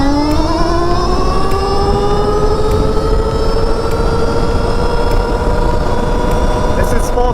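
A Stark Varg electric motorcycle accelerates at full throttle, its rising electric whine climbing steadily in pitch over loud continuous wind and road rush throughout.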